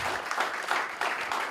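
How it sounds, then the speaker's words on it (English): Audience applause at a live sports podcast show, a steady wash of clapping from the crowd at moderate level without a clear break. "a round of applause"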